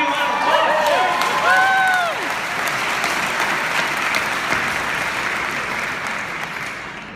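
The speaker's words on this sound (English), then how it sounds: "applause." A graduation audience at a university nursing ceremony applauds in a dense, sustained roar of clapping with a few cheers early on, gradually fading toward the end.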